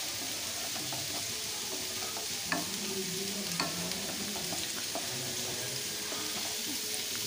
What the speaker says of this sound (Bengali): মশলাটা জল দেওয়ার পর আরও বেশ কিছুক্ষণ ধরে কষিয়ে নেব, যতক্ষণ না এর থেকে তেল রিলিজ হচ্ছে